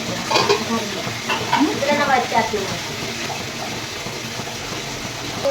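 Onions fry and are stirred in a pan for Kolhapur-style dum biryani, a loud, continuous sizzle with scraping stirs, while a voice talks over it.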